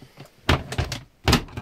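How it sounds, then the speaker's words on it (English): A washing machine door, whose handle no longer opens it, swings shut with two close, dull thunks and lighter knocks between them. "the door will close"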